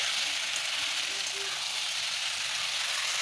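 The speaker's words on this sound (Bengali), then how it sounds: "এখন আমি ঢাকনাটা খুলে সুন্দর করে নাড়িয়ে নিচ্ছি" Pointed gourd and live tilapia curry sizzles in an uncovered pot in a village kitchen as it is stirred, giving a steady, close, bright frying hiss throughout with no pauses.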